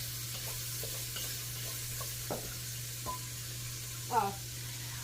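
Butter and flour roux cooking in a pan gives a soft, steady sizzle while it is stirred, with a few quiet scrapes and taps from the spoon over a low background hum.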